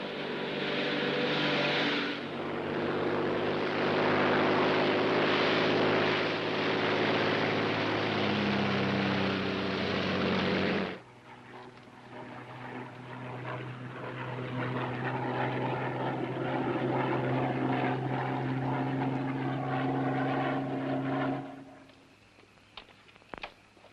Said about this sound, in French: un avion de la Royal Air Force nous attend dans un endroit prévu